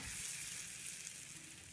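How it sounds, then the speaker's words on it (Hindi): Maize flour roti sizzles steadily on a hot griddle over a gas flame, a close, continuous crackling hiss with no talking. "अब इस रोटी को हम गैस की लो पर पलटते हुए सेकेंगे।"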